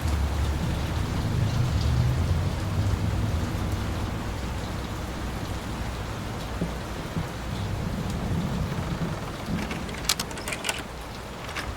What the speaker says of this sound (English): this storm ever run out of rain?